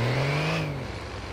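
Motorcycles passing by in GTA, heard as a steady engine whine that rises and then fades as they go past, fairly faint and with nothing else over it.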